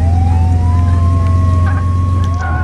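An ambulance siren wails in the Flashing Lights game, a loud, steady electronic tone sliding up and down over a constant engine rumble, with no voices.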